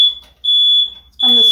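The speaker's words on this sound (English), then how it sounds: "that's our smoke detector." A home smoke detector, set off by smoke from pan-searing wild-caught tuna with teriyaki, blares two loud, piercing high beeps, and a voice breaks in at the end.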